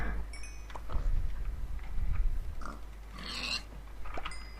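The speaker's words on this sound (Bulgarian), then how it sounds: "Ще убием прасетите, ще се връщаме." Pigs in the video game Minecraft give a few scattered oinks and snorts over a low game hum, with a brighter burst of grunting near the middle.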